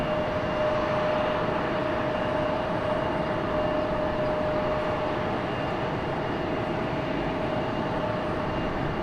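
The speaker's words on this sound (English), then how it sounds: "JetBlue A220 getting a move on" A JetBlue Airbus A220 airliner moving on the ground at Raleigh-Durham airport gives off a steady, dense jet roar with a faint high tonal whine, continuous and unchanging at moderate loudness, with no voices.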